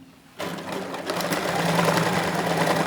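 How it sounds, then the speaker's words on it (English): A sewing machine stitches the side seams of women's trousers, starting abruptly after a brief quiet moment and then running in a steady, close, whirring rattle to the end. "So I'll take to my sewing machine and start sewing all the sides and over here."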